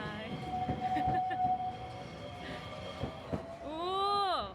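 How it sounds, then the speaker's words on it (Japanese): Train departing the station at Dogo Onsen, rumbling and rolling with a tonal whistle or horn blast near the end, under background voices. "あ、列車が発車するんだ。"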